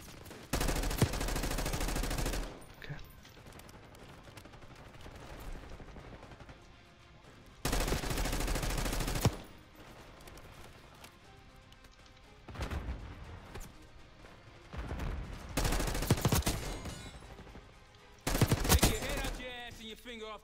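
Bursts of automatic gunfire in the shooter game Black Ops 6, loud rapid-fire volleys lasting a second or two each, separated by quieter stretches of in-game ambience, with several shorter bursts toward the end.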